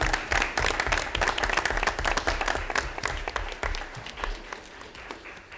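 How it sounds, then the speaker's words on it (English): An audience at a school board meeting applauds award winners with dense, sustained clapping that gradually thins out toward the end. "I think we need another round of applause for our award winners this evening."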